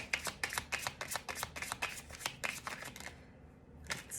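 Tarot cards being shuffled by hand, a quick run of about a dozen crisp riffling snaps in a steady rhythm, close and clear, then a brief pause and one more flick.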